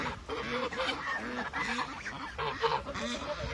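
A flock of geese on a rural Turkish smallholding honks in a steady, overlapping chorus of nasal calls, close and moderately loud, with ducks likely mixed in among them.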